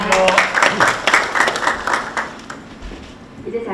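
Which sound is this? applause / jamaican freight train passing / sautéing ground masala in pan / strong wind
applause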